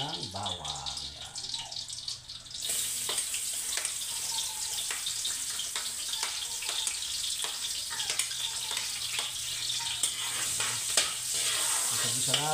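Garlic drops into hot oil and starts sizzling, a steady bright frying hiss with small crackles that holds close and continuous, and a voice talks over it.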